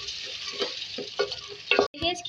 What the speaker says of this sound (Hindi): थोड़ा सा पानी डाल के इसको भुनाई कर देंगे